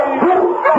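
A sled dog's bark and yelping in an old radio-drama sound effect, portraying a strong Eskimo lead dog racing through storm and snow in the Yukon, heard as a dense, continuous, close burst of barking across the whole short moment.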